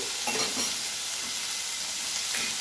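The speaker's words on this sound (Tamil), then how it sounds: "எல்லாமே 1 செகண்ட் வதங்கினா போதும்." Hot oil sizzles steadily as spices sauté, with soft scraping stirs at intervals, a close, continuous crackling hiss.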